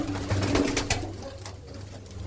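Domestic pigeons coo in their open coops, some pairs sitting on eggs, with soft repeated throaty calls close by over a low hum of the loft; no one speaks.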